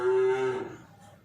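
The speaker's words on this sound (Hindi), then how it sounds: "मम्मी तेरी गायें आ गई।" Cattle moo in a single long, loud lowing call lasting about half a second, then trailing off into quieter background noise, with no one talking.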